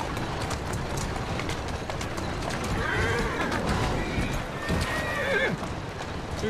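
Horse whinnies and hoofbeats from Assassin's Creed Syndicate: steady clip-clop of hooves runs throughout, with a clear neigh rising near the middle and another toward the end, over a busy game soundscape.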